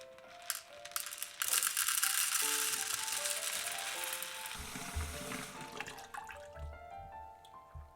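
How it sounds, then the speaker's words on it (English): Dried black-eyed peas poured and measured into a cup, a dense rattling patter of small hard legumes that swells early and trails off into scattered clicks, with faint background music. "Measure out 1 cup of black eyed peas."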